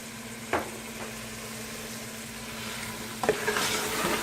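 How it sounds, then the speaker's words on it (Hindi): Goat meat for nihari being stirred as it fries with kasuri methi, a soft steady sizzle punctuated by a few sharp utensil knocks against the pan. "हिलाऊंगी। गोश्त मेरा भून हो गया है।"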